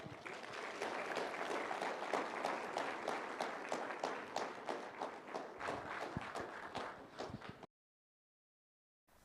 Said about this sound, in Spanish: Le recibimos con fuertes aplausos.